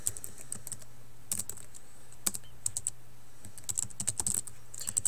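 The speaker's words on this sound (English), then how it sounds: "I type in my email address here" An email address is typed on a computer keyboard in bursts of quick, close clicking keystrokes with short pauses between them.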